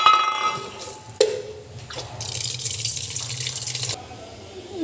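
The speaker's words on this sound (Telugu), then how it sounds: "ఈ బియ్యాన్ని కడిగి పక్కన పెట్టుకుందాం" Rice being washed by hand in water before cooking mutton biryani in a home kitchen: soft sloshing, dripping and light clinks of grains and vessel, with a brief louder splash and a steadier running-water hiss in the latter half.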